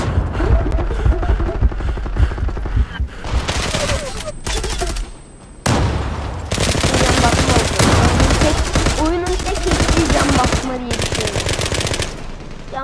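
Rapid automatic gunfire in the online shooter game Zula, loud dense bursts of machine-gun fire with brief pauses between volleys, close and continuous.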